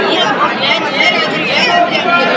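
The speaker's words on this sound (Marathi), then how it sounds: "इथे गर्दी इतके भयंकर एकदम धक्काधुक्की सुरू आहेत" Dense, loud crowd chatter fills Trimbakeshwar temple in Nashik, a continuous close babble of many voices with no pause.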